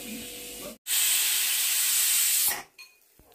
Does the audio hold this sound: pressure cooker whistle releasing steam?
yes